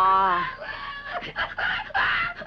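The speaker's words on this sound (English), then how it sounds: "it's just a little parrot making those noises" A little parrot screeches and squawks with a strained, whistle-like cry, then breaks into a rapid, choppy string of harsh calls, loud and close.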